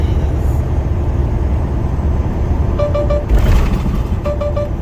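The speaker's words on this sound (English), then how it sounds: "This truck just makes a lot of noise." A heavy truck engine rumbles loudly in traffic, with short bursts of beeping partway through.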